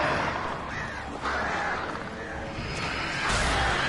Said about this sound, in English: these freaking birds are so loud